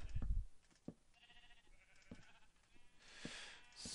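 Minecraft sheep on a Direwolf20 modded sheep farm bleat several times, short scattered calls, fairly faint, with no talking.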